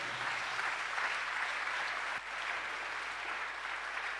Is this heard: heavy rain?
no